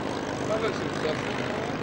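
Propeller fighters at the 1997 Duxford Flying Legends airshow, a Skyraider flying with two Corsairs, give a steady, dense engine roar that swells slightly at moments, with voices faintly present underneath.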